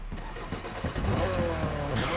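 The Lancia Rally 037 rally car in The Crew Motorfest video game fires up and revs, its engine note climbing in rising pulls over a continuous mechanical rumble.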